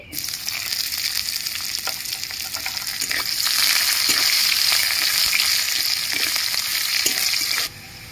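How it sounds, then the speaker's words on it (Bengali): Onions frying in hot oil along with bay leaf, a dried red chili and cumin seeds give a steady, close sizzle with occasional stirring scrapes, louder in the middle and cutting off near the end, with no talk. "পেঁয়াজটা ভেজে নিচ্ছি।"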